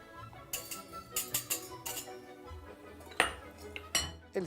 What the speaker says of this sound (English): I mix all the powders together.